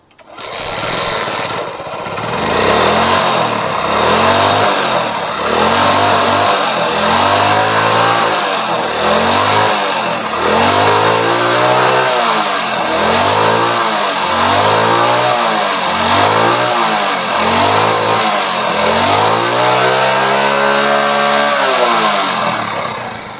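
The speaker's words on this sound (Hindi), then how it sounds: "अब बाइक को स्टार्ट करेंगे।" A Hero Splendor motorcycle with an intermittent electrical current starting fault fires up after a brief pause and keeps running loud and close, its engine rising and falling through repeated revs for about twenty seconds.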